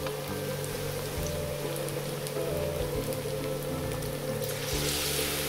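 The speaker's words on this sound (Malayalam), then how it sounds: "എന്നിട്ട് ഓയിലിൽ നല്ല ചൂടായ വെളിച്ചെണ്ണയിൽ ഇടുക." Stuffed egg bajji frying in hot coconut oil, a steady crackling bubbling hiss like rain on a surface, close and continuous with no talking.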